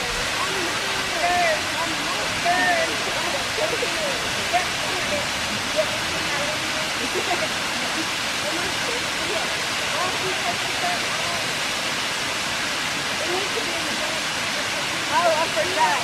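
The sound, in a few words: waterfall at Stillhouse Hollow, Tennessee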